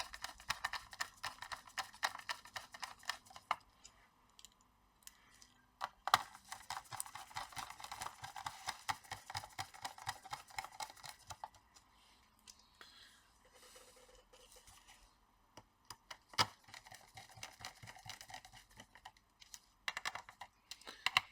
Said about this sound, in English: Now let's put the 2 screws on the board and one for the fan.